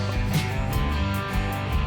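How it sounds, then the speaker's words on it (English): Rock music with a full band sound, bass and drums driving steadily, loud and continuous throughout. "Oh, and the bass and the drums are coming in immediately."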